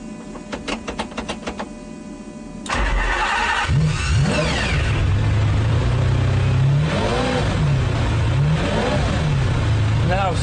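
A stripped-out, race-spec supercar is fired up: a whirring, ticking fuel pump and ignition sequence lead to the engine catching loudly, then a deep idle broken by several sharp, rising revs, close and dominant.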